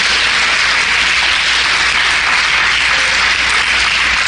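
A church congregation applauds during a Holy Week service, producing a loud, dense, even roar of clapping that stays constant from start to finish with no talk on top.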